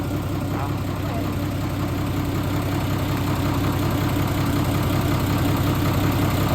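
A repaired car engine runs at a steady idle, close and moderately loud, with an even low rumble and a faint ticking texture throughout.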